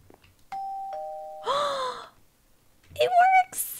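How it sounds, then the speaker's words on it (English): A newly found doorbell in a farmhouse chimes with a two-tone ding-dong, followed by a gasping, delighted reaction and a second brighter chime burst, heard clearly in a quiet room. "Guys, look, we have a doorbell."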